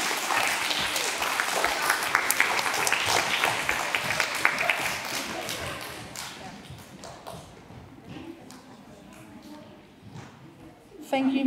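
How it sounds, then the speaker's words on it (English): A school presentation-day audience applauds loudly for several seconds, the clapping thinning out and fading to scattered claps and murmuring. "Can we give all these amazing learners a big round of applause?"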